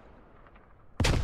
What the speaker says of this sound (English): You got grenades, rockets, as rockets are just firing above us as well.